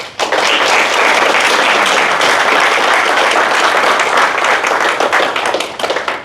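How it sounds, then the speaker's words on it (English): Loud, close audience applause at a Toastmasters speech, thick continuous clapping for about six seconds that thins slightly toward the end, with no talking. "I think that deserves applaud for Toastmasters."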